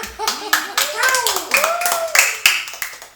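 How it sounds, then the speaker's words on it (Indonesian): Several sharp hand claps punctuate the clip, mixed with bright, animated children's voices chattering over them. "Terus Tepuk tangan siapa?"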